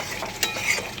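Curry masala with salt being fried and stirred in a pan on a gas flame, a soft steady sizzle with faint scraping strokes, close and continuous for a moment.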